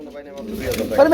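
A pair of Sirazi pigeons coo softly and close by in a short, low burst, with a person speaking over them.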